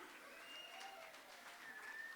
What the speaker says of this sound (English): One more round of applause for Anne-Marie.